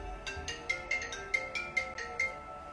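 A telephone rings with a quick electronic melody of repeated bright tones in a regular pattern, fairly faint, with no talking over it.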